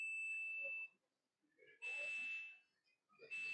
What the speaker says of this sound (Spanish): Está pitando.